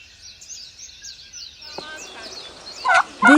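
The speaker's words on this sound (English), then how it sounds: "This is turkey." A turkey lets out two short, loud gobbles near the end, following a stretch of faint background bird chirping.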